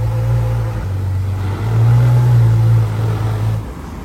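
A BMW X5 test mule car drives past on a Paris street, its engine note a steady mid-pitched hum that swells as it nears, then eases off as it moves away.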